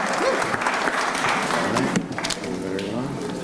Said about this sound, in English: Let's give a round of applause and congratulate all the nominees and finalists of